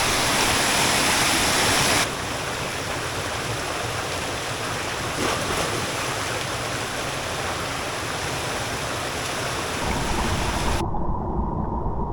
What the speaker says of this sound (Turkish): Böyle dağın altından çıkıyor bu su.